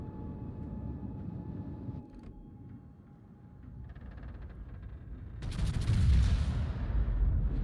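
A battleship's heavy turret guns fire in World of Warships, with a Tier 9 American Delaware battleship on the Estuary map, ending in a loud, low, rolling boom that swells and lingers after a quieter stretch of engine rumble.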